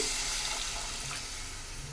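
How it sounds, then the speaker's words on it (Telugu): Water pours from a glass into a cooking pan in a steady, close stream, a continuous splashing rush that barely changes. "ఒక గ్లాస్ వరకు అయితే వాటర్ పోసుకుంటాను"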